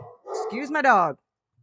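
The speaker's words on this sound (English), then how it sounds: "excuse my dog" One sharp, close dog bark, a short yelp-like burst indoors, is heard alone in a quiet room.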